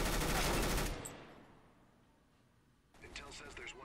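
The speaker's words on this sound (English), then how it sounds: "I like this gun. I headshot him." A loud, rapid burst of rifle fire from CS:GO cuts off abruptly and fades into a quiet tail, and a second, fainter flurry of shots or clatter follows a few seconds later.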